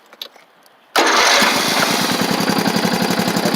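A tractor engine cranks and catches from cold with the choke off, bursting abruptly into a loud, rough, steadily pulsing run after a quiet moment of small knocks, close by.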